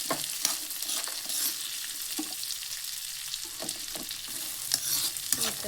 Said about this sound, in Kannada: ಇವಾಗ ನೋಡಿ ಫ್ರೆಂಡ್ಸ್, ಇನ್ನೊಂದು ಸ್ವಲ್ಪ ಫ್ರೈ ಆಗಲಿ ಸಾಕು.